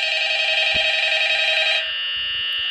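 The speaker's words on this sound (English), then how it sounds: "Someone answer the phone." Phone ringing in the game Five Nights at Freddy's, a steady electronic ring that cuts off partway through, with a faint hum continuing afterward.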